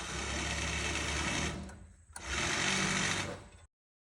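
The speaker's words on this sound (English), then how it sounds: "He's playing tweaker with the sawzall." A Sawzall reciprocating saw buzzes loudly in two bursts with a brief pause between, working near a 1992 Chevy S10 during a clutch fan replacement, then cuts off abruptly.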